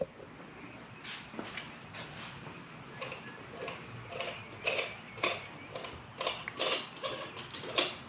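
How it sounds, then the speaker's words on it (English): Kawasaki steering damper friction knob being unscrewed by hand, giving a run of small, close clicks and ticks that grow sharper and more frequent as it loosens, with faint mechanical rustle between. "I'm just going to start unscrewing this"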